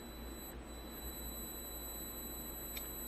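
A CaDa electric motor runs on a test rig with a steady, high-pitched whine that holds a constant tone throughout, close and fairly quiet, with no one talking.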